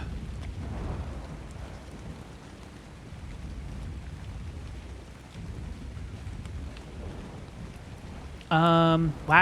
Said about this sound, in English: What kind of storm is this? This thing's crazy.